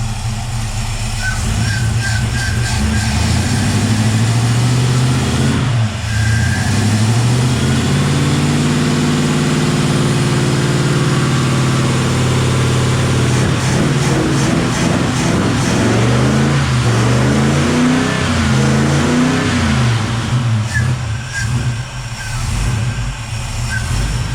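A cold Ford 351 Cleveland V8 with a freshly redone carburettor idles while warming up, a loud, close, lumpy rumble whose pitch wanders and surges unevenly as it searches for a steady idle.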